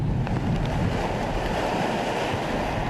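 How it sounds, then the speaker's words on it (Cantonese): Surf breaking along the Tai O shoreline in Hong Kong during Typhoon Talim, heard as a steady, broad roar with wind buffeting the microphone and no distinct individual crashes. "雖然浪花一浪接一浪"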